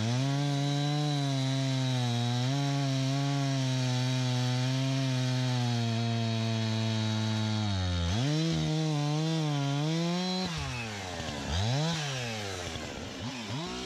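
A Stihl chainsaw cuts through 16-inch maple timber, its engine droning loud and steady under load, then dropping and surging in pitch as the bar works deeper through the wood near the end of the cut.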